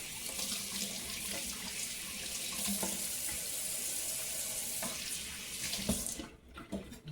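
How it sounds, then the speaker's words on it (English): A red pepper rinsed under a running kitchen tap: a steady, close rush of water hissing into the sink for several seconds, then cut off near the end, with faint handling knocks underneath. "Rinse that off."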